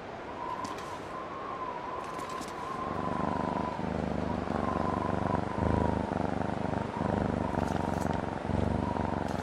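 A cat purrs in The Long Dark, set in Hushed River Valley, giving a steady, close, continuous rumble that runs through the whole stretch over a faint high tone and soft background noise.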